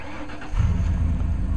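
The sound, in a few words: truck engine starting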